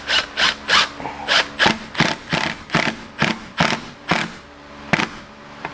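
A ratchet wrench cranks a bolt on the rear fender of a Corvette C5 with a salvage title, giving a loud, close, evenly spaced series of about fifteen clicking pulls that slow slightly toward the end.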